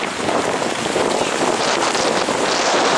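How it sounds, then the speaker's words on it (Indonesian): Constant gusting wind batters the microphone at an Aceh paragliding venue, a dense unbroken roar without pauses and with no speech. "Semakin kencang angin di sini."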